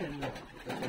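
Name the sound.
pigeon cooing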